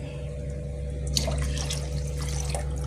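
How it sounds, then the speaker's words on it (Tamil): Water is poured from a tumbler into a pot of rice, a close splashing trickle that begins about a second in over a steady low hum. "6 டம்ளர் தண்ணி."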